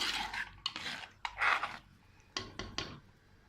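A spoon stirs fish curry right after garam masala goes in, making several short scraping, clinking strokes against the pan in an uneven rhythm, close and fairly quiet.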